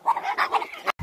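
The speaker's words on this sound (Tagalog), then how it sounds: "Ayan yung aso ni Angel" A schipperke dog barks and whimpers in a quick run of short, close yelps that end abruptly. No one speaks.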